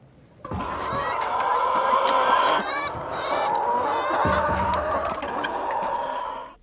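A flock of backyard chickens raised from day-old chicks clucks and squawks loudly and continuously at close range, with honking fowl calls layered throughout.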